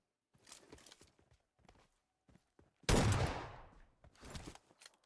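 A single sharp sniper rifle shot in PUBG cracks out loud midway and rings off in a long decaying echo, with softer scattered footsteps and clicks before and after.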